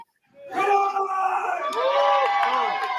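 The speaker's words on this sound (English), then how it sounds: "They got a decent crowd." A modest crowd at a wrestling show erupts into loud shouting and cheering, sustained and close, with overlapping voices and whoops.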